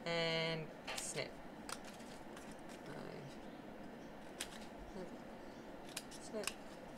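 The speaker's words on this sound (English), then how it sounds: "Then coming along with scissors and just going snip and snip." Scissors snip through lace and trim while making a tag holder, a few sharp close cuts spaced irregularly, with faint handling noise around them.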